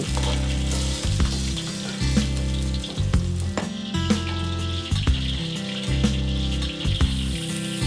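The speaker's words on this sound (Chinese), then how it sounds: "锅中倒油，放入青椒丝煸一下，香气更足。" Shredded green peppers stir-fried in hot oil in a wok, a loud continuous close sizzle with rhythmic tossing and scraping throughout, no voices.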